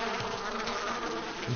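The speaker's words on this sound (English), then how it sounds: "Fucking bees." Bees buzz in Far Cry 4, a dense, continuous insect drone close and fairly loud for a short burst, with no speech over it.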